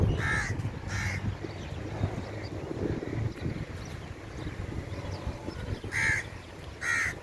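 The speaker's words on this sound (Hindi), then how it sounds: "परिंदों की चहचहाहट भी आपको शायद सुनाई दे रही होगी" Crows caw in a park in DHA Karachi, Bukhari Park: a pair of calls at the start and another pair near the end, with wind buffeting the microphone and a low background rumble in between.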